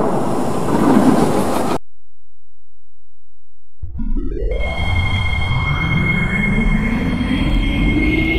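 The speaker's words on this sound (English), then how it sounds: "The train is about to depart." A train starts up and pulls away after a brief silence, its rising hum and rumble building steadily with a high tonal whine on top.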